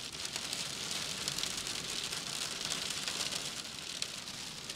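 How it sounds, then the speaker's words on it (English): Small snow pellets drum densely and continuously against the side of a parked van, a steady hissing patter like heavy rain heard from inside, with no talking. "It's not snow, it's not hail, it's just like little snow pellets, like polystyrene pellets battering the side of the van."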